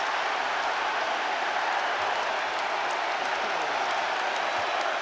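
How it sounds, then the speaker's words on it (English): Twickenham rugby crowd cheering and applauding a France try in the 1999 Rugby World Cup semi-final against New Zealand, a loud sustained roar and clapping from a packed stadium. "And listen to this Twickenham crowd, they're loving it"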